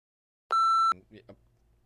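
A single sharp, steady electronic tone sounds for under half a second, cutting across a voice, followed by a few syllables of speech.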